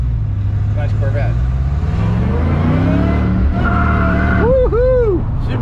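Rare supercharged 1962 Corvette accelerating hard, its engine rising in pitch across several revs before a sharp high whine near the end, with people talking and cheering over the loud, steady roar.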